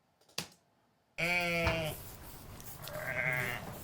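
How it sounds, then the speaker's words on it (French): A goat's harmonic bleat cuts in loud and close after a short silence and a single knock, followed by a softer second bleat over a rustling farm ambience built for the film "Santiago". "Et là, ce sont des chèvres."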